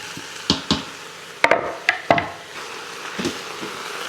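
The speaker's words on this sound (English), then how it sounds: "give this a stir so I can get the onions, carrots, and celery kind of mixed up in with the meat" Rotisserie chicken with onions, carrots and celery stirred in an Instant Pot: a handful of scattered knocks and scrapes of a utensil against the pot, with a soft background hiss and no talking.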